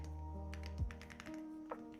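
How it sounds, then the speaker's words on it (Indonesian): Soft keystrokes on a Vortex Series Mono 75% second-generation keyboard tap out at an irregular pace, quiet and muted beneath a steady tonal background hum. "coba ngetik, typing, wah lumayan ya. Gak berisik, kalem gitu, halus banget."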